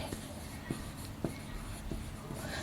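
Pen or marker writing on paper or a board during an organic chemistry class, a series of short scratchy strokes spaced irregularly over a low room hum, close and fairly quiet.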